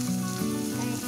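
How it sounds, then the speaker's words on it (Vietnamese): Minced meat tipped into a pot of chicken broth for wonton soup gives a brief, steady sizzling hiss that fills the short moment with no one speaking. "mình sẽ trút một ít thịt băm vào."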